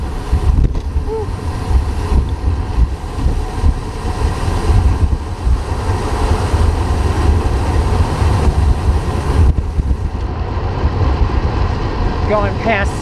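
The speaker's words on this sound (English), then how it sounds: "There's the train." Passing train heard during a bicycle commute, a loud continuous rumble and rattling roar lasting throughout, mixed with wind noise close by.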